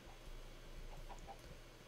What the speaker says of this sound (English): Looks like some chickens managed to escape this far.